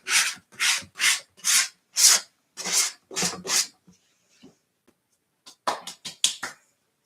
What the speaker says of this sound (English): We're sanding my paper mache lamp.